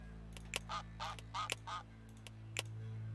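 Geese in the Let's Build A Zoo video game honk in a few short bursts over a steady low hum, with sharp clicks between calls and no talk.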